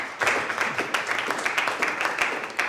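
Brief applause from a small group of workshop participants at a slam poetry session, scattered claps of moderate loudness with a few sharper individual claps standing out.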